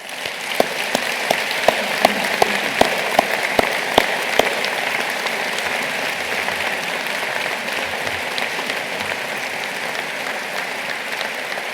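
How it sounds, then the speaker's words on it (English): Applause from the audience at a university graduation ceremony, with a few sharp individual claps standing out early over a steady wash of clapping that carries on evenly to the end. "those that supported you deserve a warm round of applause"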